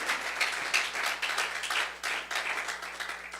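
A church congregation applauds in a steady wash of clapping that lasts the whole stretch, without any voices over it.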